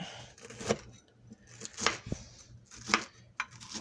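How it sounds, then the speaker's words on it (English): Rice crispy squares being sliced with a small spatula, giving a few soft, sticky cutting and scraping strokes in quick bursts, close and quiet, with no talking. "I'm just going to cut them this way. I'm just using a small spatula."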